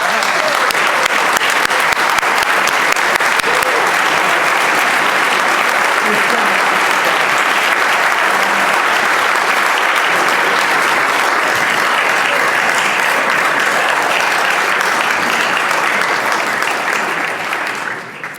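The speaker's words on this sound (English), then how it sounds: "give the Colonial Heights boys volleyball team, if they will stand, a nice round of applause" Sustained loud applause fills a state House of Delegates chamber as lawmakers welcome a visiting high school boys volleyball team, steady dense clapping for about eighteen seconds before tapering off at the end.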